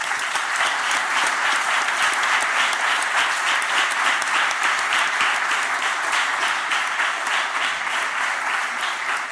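At a historical memory event, an audience applauds a Socialist Party honoree with sustained, even clapping from many hands, continuous and fairly loud throughout.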